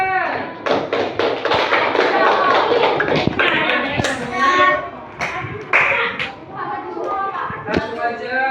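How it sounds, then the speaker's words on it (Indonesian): Applause in a classroom, brisk scattered clapping and tapping from children mixed with their chatter, loud and close throughout. "Tepuk tangan."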